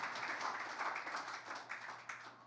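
A church congregation clapping in praise, a faint, dense patter of many hands held steady at a distance, with a few sharper claps near the end.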